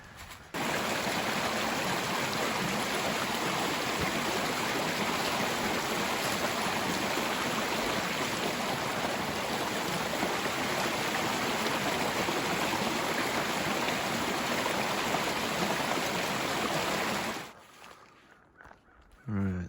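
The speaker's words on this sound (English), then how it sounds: "Coming up on what I believe to be our first creek crossing." A winter creek crossing on a Great Smoky Mountains backpacking trail rushes loudly and steadily up close for most of the stretch, then cuts off abruptly near the end.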